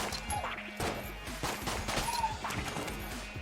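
Rapid bursts of gunfire from the video game Enter the Gungeon crackle in dense, overlapping volleys, with repeated sharp shots running throughout alongside game sounds.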